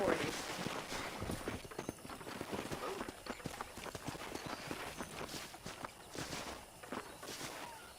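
Horse hooves clip-clop steadily in a video game ranch scene, a continuous walking rhythm of close, crisp hoof hits, with a game character's voice talking over them.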